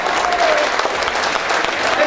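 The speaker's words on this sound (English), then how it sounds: "a nice big round of applause for the beautiful Astoria String Quartet." An audience applauds a string quartet with loud, dense clapping, and voices are faintly heard through it.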